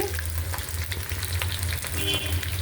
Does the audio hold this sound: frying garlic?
yes